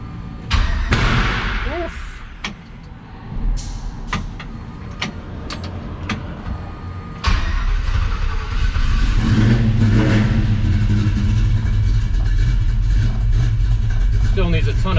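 A 1969 GMC truck engine cranks and fires, with uneven starts and revs early on, then settles into a loud, steady running idle that continues close by to the end. It still needs tuning, and voices talk over parts of it.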